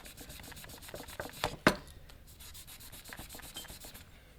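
A gunky guitar fret is rubbed clean in quick, repetitive scrubbing strokes, close and fairly quiet, with a couple of sharper scuffs partway through.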